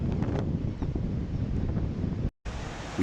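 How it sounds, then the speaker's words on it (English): Strong wind buffets the microphone on a coastal cape while big swell pounds below, giving a loud continuous roar with a brief dropout near the end. "The wind is starting to subside, but big swell is still pounding the cape."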